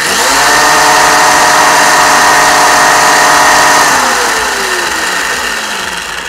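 A dustbin or gas lorry engine running loud and near with a steady mid-pitched drone, then pitch dropping and fading slightly as it pulls away.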